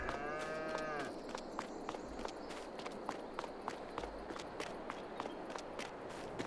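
Cattle in a cow barn in Farming Simulator 22 let out one low moo at the start, followed by a run of quick, regular footsteps over a faint background.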